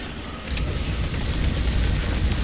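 A rocket fired and exploding in the space combat game Star Wars Squadrons, a loud, rumbling blast that bursts in and sustains as a dense roar for the rest of the clip.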